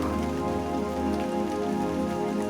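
Continuous rain falling on a surface, a dense steady patter and hiss with a faint low hum beneath, unbroken throughout with no talking.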